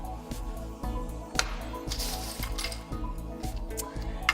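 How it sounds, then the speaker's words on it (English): Ice cubes clink and rattle into a mint julep glass in a quick run of sharp, close knocks, with a louder crunch partway through. "I like to add a little bit more ice"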